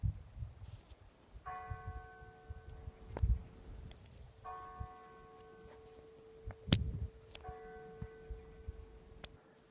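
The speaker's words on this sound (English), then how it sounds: "Can you hear the church bells?" Distant church bells ring out in slow, spaced strokes over quiet outdoor ambience, each toll lingering before the next.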